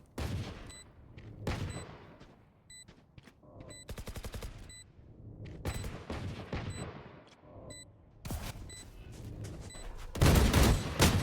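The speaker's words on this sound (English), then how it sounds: "Garrett getting into a gunfight here" Rapid bursts of gunfire in a Valorant gunfight, sharp cracks and rattling volleys repeating in clusters, loud and close, with a dense barrage near the end.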